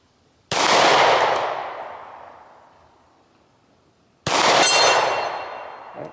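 Two sharp, loud gunshots from a 9mm Shield micro-compact pistol fired at a target outdoors, each crack followed by a long, fading echo, spaced about four seconds apart.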